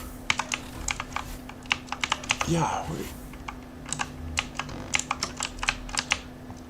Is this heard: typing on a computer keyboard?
yes